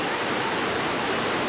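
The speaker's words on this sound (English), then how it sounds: "stream coming through this tunnel on the loop of the river. Today almost running at a maximum." A flooded river torrent rushes through the rock tunnel at Pound Bend, Warrandyte, Melbourne, a loud, dense, unbroken roar of water running near its maximum.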